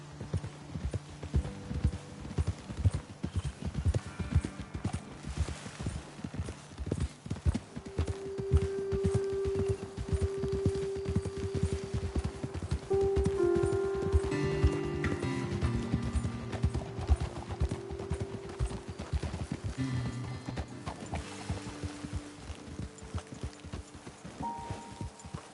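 Horses' hooves clip-clop steadily at a walk through the open country of the video game Red Dead Redemption 2, fairly close and continuous, with an occasional whinny and a soft musical background beneath.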